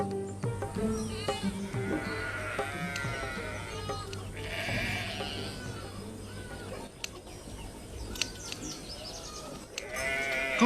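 Sheep bleating in a flock, several calls overlapping across the stretch over a steady rural background with faint bird-like chirps and some distant voices.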